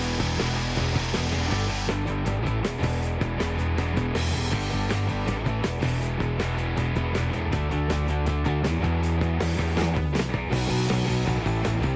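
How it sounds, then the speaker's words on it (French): Wooden dowels are cut to length for a coffee table, with steady, loud, continuous sawing running throughout and no speech. "on va pouvoir couper les tourillons à la bonne longueur"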